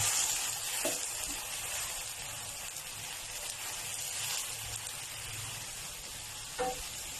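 Chicken is stir-fried in a hot wok with garlic and chili, sizzling steadily as it is stirred, with a couple of brief clinks against the wok.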